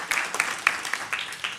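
An audience at a technology panel event gives a short burst of applause, scattered claps rising and falling briefly at moderate distance.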